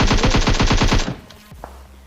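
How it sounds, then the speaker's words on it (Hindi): Gunfire in a battle royale video game: a fast, loud automatic burst of around ten shots that stops abruptly, followed by quiet with a faint click. "क्योंकि यहाँ पे फायर वगैरह हो रहा था"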